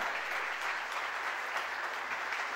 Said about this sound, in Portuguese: Uma salva de palmas aí para o coordenador